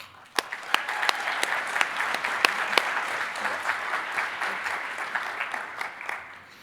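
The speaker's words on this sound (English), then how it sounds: "let's give them all a round of applause" An audience at a plenary session applauds a group of award winners, producing a sustained, moderately loud wash of clapping with a few sharp individual claps standing out near the front, lasting several seconds before tapering.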